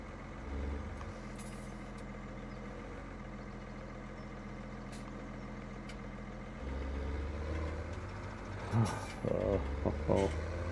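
A T7 tractor in Farming Simulator 2017 idles with a steady low diesel rumble. The engine note grows louder and heavier partway through, followed by a few clunks and bursts near the end. Some faint voice sounds sit in the background.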